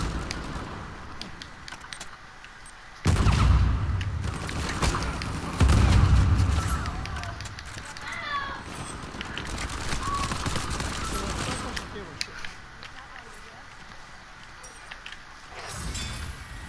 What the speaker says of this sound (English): There's somebody behind me shooting at me.